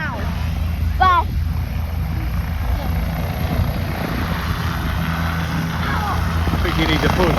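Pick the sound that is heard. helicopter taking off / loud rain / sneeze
helicopter taking off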